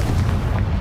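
Confringo spell blast from Hogwarts Legacy, a short, loud and close explosive burst of dense low rumble lasting under a second, heard alone without voices.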